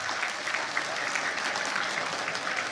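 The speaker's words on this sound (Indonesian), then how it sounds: "Untuk kali ini kita beri tepuk tangan untuk tim kebendaharaan kita" An audience at a political party declaration event applauds the treasury team, a steady dense burst of clapping heard alone for a few seconds.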